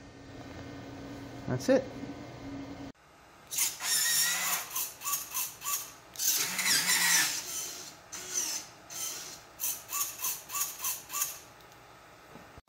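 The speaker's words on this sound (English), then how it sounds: "So it's just a little hobby servo in there. Moves back and forth." Small hobby servo gadget in an R5-D4 droid moving back and forth, a series of loud whirring mechanical bursts in quick repeated pulses, close up, after a brief spoken remark.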